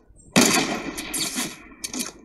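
Video game gunfire erupts suddenly in a loud, close burst of rapid shots, followed by two shorter volleys after brief pauses.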